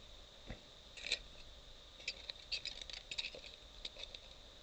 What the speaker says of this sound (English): I'm going to go ahead and start cutting a strip out of this remainder of a beer can here.